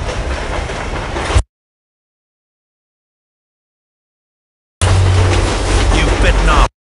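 A train rolls along with continuous rumbling and rattling in the Spider-Man 2 video game, heard in two separate bursts with a long silent gap between them.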